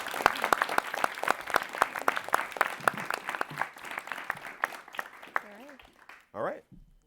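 Audience applause at a panel of an entertainment symposium, a dense run of sharp claps for several seconds that thins out and fades, with voices talking over it and a short exclamation near the end.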